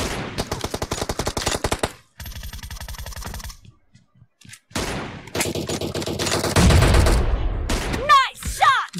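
Rapid automatic gunfire bursts in PUBG Mobile, loud and dense at the start, then after a brief lull more sustained shooting and game effects, with a voice talking over part of it.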